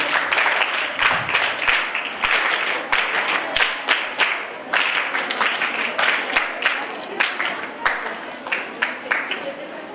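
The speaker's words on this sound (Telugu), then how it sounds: "ఫస్ట్ ప్రైజ్ కావాలి అనుకున్న వాళ్ళందరూ చప్పట్లు కొడుతూ ఉంటారు" A large audience applauds at a district youth festival in the New Ambedkar Bhavan hall, dense clapping continuing steadily and loudly throughout, with a few sharper individual claps standing out near the front.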